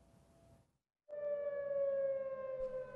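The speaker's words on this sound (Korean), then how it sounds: "정막을 깨고 요란한 사이렌 소리가 동두천 미군 기지인 캠프 K시에 울려 퍼집니다" A loud air raid siren wails steadily after a brief silence at night at Camp Casey, a US military base in Dongducheen, South Korea, set off by a malfunction, its rising tone sustained and piercing, with faint rumbling beneath.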